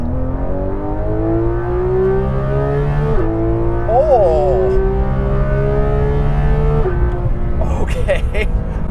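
A Porsche 911 GT3 RS with its rear-mounted engine revs hard and accelerates, climbing through gears with a loud rising howl and brief shift dips, close and dominant, with a brief exclamation from a voice.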